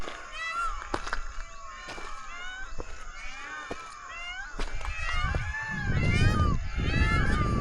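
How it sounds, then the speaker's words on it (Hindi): Loud, wailing calls from a flock of peacocks ring out repeatedly at night over a steady rumble of moving ground noise, several birds calling from various distances near Ajmer during a search operation. "आप सुन रहे होंगे मोरों की आवाज़, कितने सारे मोरों की"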